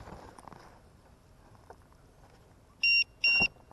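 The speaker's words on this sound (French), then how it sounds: "C'est bon, t'as le buzzer branché." Two short, loud electronic buzzer beeps in quick succession come from a radio-controlled car, sounding over faint outdoor background.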